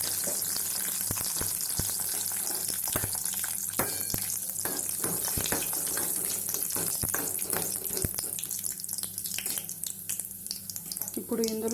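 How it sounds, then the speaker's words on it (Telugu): Cinnamon, cloves and cardamom sizzle in hot oil in an Andhra chicken dish, with cashews to follow; a steady crackling fry carries on throughout, broken by sharp stirring clinks and spatula taps. "నూనె కాగింది కదండి, ఇందులో చెక్క, లవంగ, యాలకులు వేద్దాం. అవి వేగిన తర్వాత జీడిపప్పు వేసుకుందాం."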